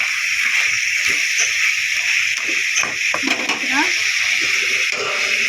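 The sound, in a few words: crab gravy masala cooking in oil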